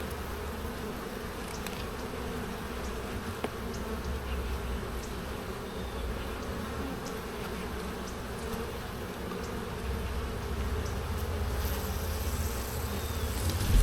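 Honey bees drone in a dense, steady buzz during a hive inspection, close and continuous for the whole stretch.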